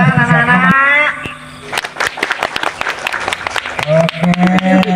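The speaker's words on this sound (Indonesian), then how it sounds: "tepuk tangan anak-anak" Children clapping at a village Indonesian Independence Day games contest, a burst of quick, uneven close claps in the middle, with a loud announcer's voice talking before and after.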